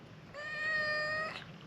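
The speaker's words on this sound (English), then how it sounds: "You're a noisy cat, you know that, don't you?" A cat lets out a single drawn-out meow, about a second long, close and fairly loud against a quiet indoor background.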